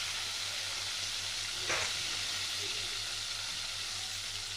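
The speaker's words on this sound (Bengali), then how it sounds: "আর এক পিঠ উল্টে দিচ্ছি আমি।" Fish fries in hot oil after being flipped, a steady close hissing sizzle with a brief louder spatter partway through.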